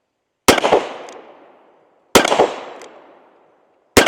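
Three loud, sharp shots from a Smith and Wesson 686 Mountain Gun revolver are fired at targets outdoors. Each crack rings out and fades, the shots spaced about 1.7 seconds apart, and the last is cut off at the end.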